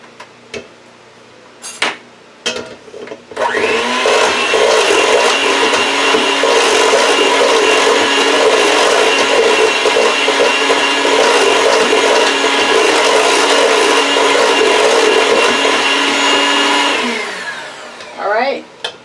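An electric hand mixer whirs loudly and steadily as its beaters churn mango tiramisu cream in a bowl, with a few clicks and knocks before and after the continuous run.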